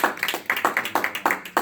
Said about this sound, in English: let's give both of them a round of applause once again